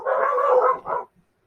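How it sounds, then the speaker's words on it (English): Dogs barking in a short burst, a sustained bark or howl followed by one shorter bark, fairly close and loud with no other sound around it. "The doggies heard a bit of a noise there, so they started barking"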